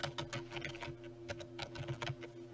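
Typing on a computer keyboard: a quick, close run of soft key clicks in irregular bursts over a low steady hum, with no talking.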